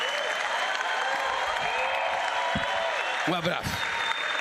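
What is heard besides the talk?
audience applause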